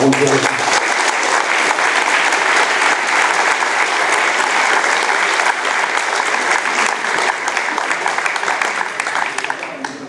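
Loud, sustained applause from the audience at an engineering sciences olympiad, a dense wash of many hands clapping continuously for about ten seconds and fading slightly at the end.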